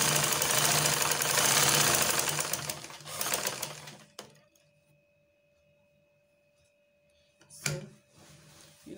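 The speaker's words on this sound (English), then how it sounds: "I'm sewing. Backstitch." A sewing machine runs a dress seam for several seconds with a dense mechanical chatter, stops briefly, then a short burst of reverse stitching follows near the end; fairly loud and close, with no talking.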